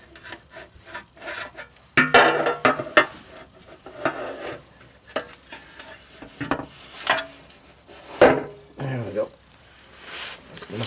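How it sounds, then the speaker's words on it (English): A Duramax-paired Allison transmission pan is worked loose and slid out onto a drain pan, giving scraping, rubbing metal-on-metal rasps and clunks in irregular bursts close by, with some talk in between. "slide it out with the drain pan"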